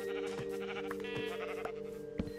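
Minecraft sheep bleat repeatedly over a steady tonal background hum, several wavering cries close together, moderately loud.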